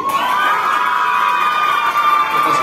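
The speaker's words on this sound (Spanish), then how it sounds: "los aplausos para Luisanis." A crowd applauds and cheers steadily for a graduate at an institute anniversary ceremony, a dense, loud wash of clapping and shouting voices that carries on without a break.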